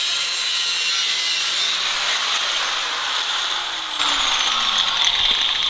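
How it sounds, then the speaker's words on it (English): A brand-new Cold Case aluminum radiator is being cut up, giving a steady close rasping, grinding cut with a faint falling tone partway through, with no voices. "Hacking up this brand new cold case radiator."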